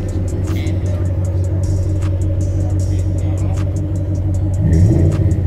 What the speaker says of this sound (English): Hit the gas one time.